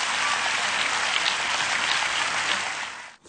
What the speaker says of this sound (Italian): E qui scatta l'applauso più forte.